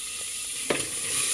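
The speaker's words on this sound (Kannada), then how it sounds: "ಈಗ ಈರುಳ್ಳಿ ಟೊಮೆಟೊ ಹಾಕ್ತಿದ್ದೀನಿ" Onion and tomato hitting a hot pan for a village-style methi rice dish, giving a brief steady sizzle with a sharper burst near the middle as they go in. No one speaks.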